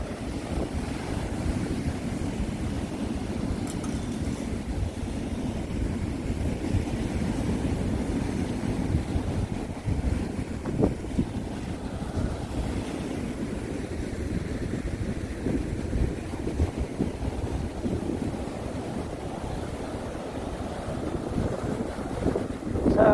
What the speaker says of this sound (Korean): 자, 엄청난 파도가 밀려오고 있습니다